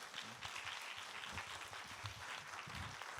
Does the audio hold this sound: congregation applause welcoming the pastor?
yes